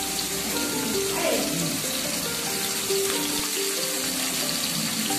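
Fish fries in oil with curry leaves over a low flame, giving a steady close sizzle and crackle with a few faint clinks.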